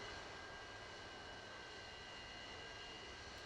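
Su-35 jet engine idling after a cold start in a flight simulator game, a steady faint whine and rumble that holds evenly throughout with no voices.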